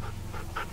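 A dog in The Walking Dead video game pants in quick, rhythmic breaths, close and fairly soft, over a low steady background hum.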